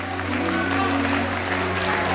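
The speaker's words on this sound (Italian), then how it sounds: "Signori, un applauso" Audience applause at an Italian orchestra show in Bosco Mesola, a dense steady wash of clapping from a close crowd, loud and unbroken for the whole stretch.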